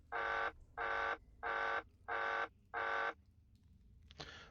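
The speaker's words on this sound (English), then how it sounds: "There's an alarm that's going off." An alarm sounds five evenly spaced loud buzzing beeps, each roughly half a second long, in a tabletop role-playing game session, followed by quiet and a brief clatter at the end.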